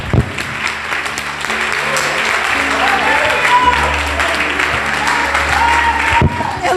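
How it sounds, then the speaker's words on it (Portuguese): Church congregation applauding during a sermon, a loud sustained wash of clapping with voices and cheers mixed in and a low musical tone underneath, cutting off abruptly near the end. "Então aplauda Ele."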